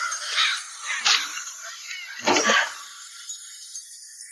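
A crow caws from a tree, three short harsh calls spaced about a second apart, fairly close and clear with quiet between them.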